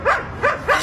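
Three quick, high-pitched barks from a dog, evenly spaced and close to the listener, each a short yelping burst with no talk over them.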